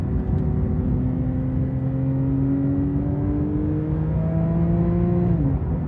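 A Porsche 911 GT3 Touring engine revs steadily upward, a rich harmonic tone climbing in pitch for several seconds before easing off near the end, loud and close.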